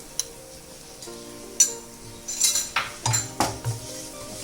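Metal utensils scrape and clink against a pan while mixing ground cumin and spices for chicken curry, in a series of short, close stirring strokes, with a quiet background hum.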